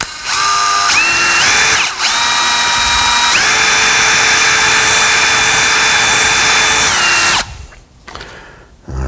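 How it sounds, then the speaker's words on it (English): A power drill whines loudly and steadily for several seconds, pitch rising and settling as it enlarges a small hole to 55 thousandths in a 4R70W transmission part, then spins down and stops. "so we're going to drill that out."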